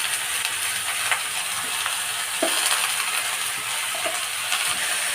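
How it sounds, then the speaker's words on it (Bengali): Chopped ash gourd stir-fried in a pan, a steady sizzle with scattered light clinks and scrapes of a utensil stirring the pieces, close and continuous with no talking. "কেটে রাখা চাল কুমড়োগুলো দিয়ে একটু নাড়াচাড়া করে নেব"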